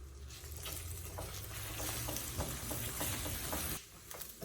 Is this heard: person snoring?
no